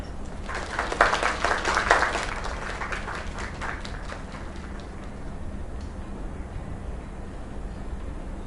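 Applause from a crowd in the video game Lake swells early, peaking around the first two seconds, then thins into a scattered patter of claps against a busy room murmur.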